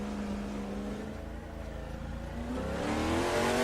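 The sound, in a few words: V8 race car engine in video game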